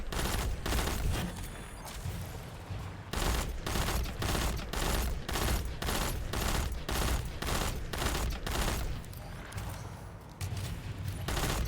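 Sustained weapon fire in the Destiny-style Nightfall strike Hallowed Lair while battling snipers: dense, rapid bursts of shots repeat in steady volleys with brief pauses, loud and close throughout.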